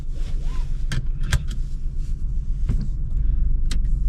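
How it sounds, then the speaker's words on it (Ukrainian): A car engine running at a fuel station, with a steady low idle rumble throughout and a few sharp clicks from nearby controls or fittings. No one speaks. "Запускаємо двигун."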